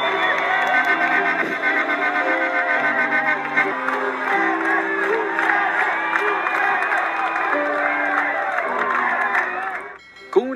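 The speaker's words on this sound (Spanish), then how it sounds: "los hermanos hondureños recibían con gritos, aplausos, pancartas y banderas de ambas naciones los cargamentos de vacunas contra el COVID-19" Hondurans greeting COVID-19 vaccine shipments with shouts, applause, banners and flags, a loud continuous crowd roar of cheering and whooping with a prominent sustained musical tone running through it before it cuts off near the end.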